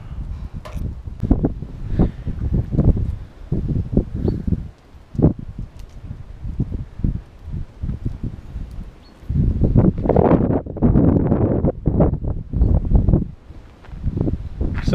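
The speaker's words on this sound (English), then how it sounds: "It is a bit windy." Gusts of wind buffet the microphone in bursts, rising and falling, with a voice talking intermittently between the louder rushes.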